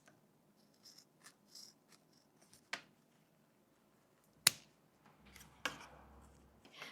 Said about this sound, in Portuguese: agora eu vou cortar bem na risca que eu fiz